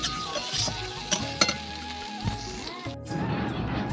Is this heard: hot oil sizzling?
yes